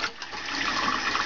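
Water runs steadily into a pot, a continuous splashing rush with no voices.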